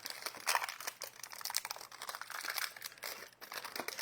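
Tape pulled and pressed onto a small piece of packaging cardboard during a craft-kit unboxing: close, crinkly rustling and sticky crackles in irregular bursts, moderately loud with no voices.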